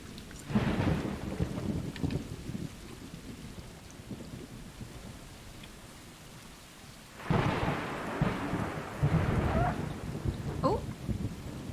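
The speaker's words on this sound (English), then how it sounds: "Love some good loud thunder." Thunderstorm in the video game Stray: loud rolling thunder crashes over steady rain. The thunder surges at the start, eases into a rain-filled lull, then booms again near the end.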